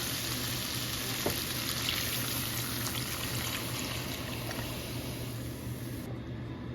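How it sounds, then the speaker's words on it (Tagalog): Pork broth goes into a hot pan for pancit Malabon, a steady loud sizzling hiss with faint trickling and bubbling running throughout, no talking. "Ngayon nilalagay ko na yung ating pork broth"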